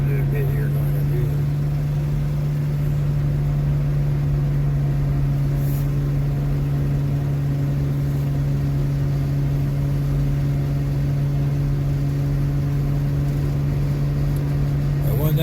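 A car climbing a hill on a road trip, its steady engine drone holding a low hum throughout while a voice talks over it.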